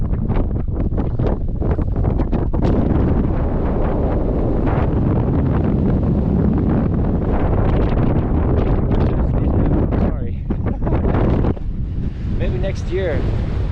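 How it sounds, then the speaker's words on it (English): Strong wind roars across the microphone on a mountain ridge in Mongolia in early spring, loud and continuous with gusts that buffet the mic throughout. "when we get up to the top of the ridge, any top of the ridge, the wind blows like a knife."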